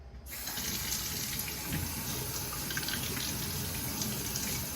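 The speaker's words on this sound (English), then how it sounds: "Rinse it really well under cold running water" Cold tap water runs in a steady, full stream while zucchini, scallion and lemon are rinsed beneath it. The splashing stays close and even throughout, with no speech.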